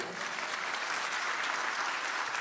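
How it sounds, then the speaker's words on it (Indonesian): A congregation applauds during a church sermon. The clapping is even, dense and sustained at moderate volume from start to end, with no break and no voice over it. "Itu tepuk tangan dia hadir."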